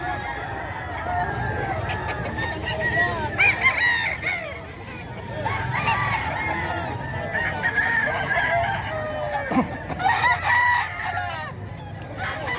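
Several fighting roosters crow repeatedly at close range amid steady clucking and a busy yard of gamefowl, with crows overlapping one another across the whole stretch.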